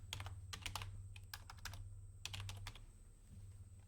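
Rapid bursts of keystrokes on a computer keyboard as a folder name is typed, close and fairly quiet, in uneven clusters with short pauses between words.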